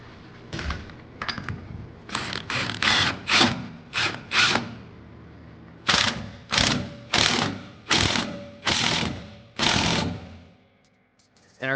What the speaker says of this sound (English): we're going to have to get in our ball joint press